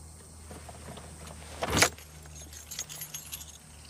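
Car keys jingle briefly as they are handed over, one short bright metallic rattle followed by fainter clinks, heard over the low hum of a vehicle setting.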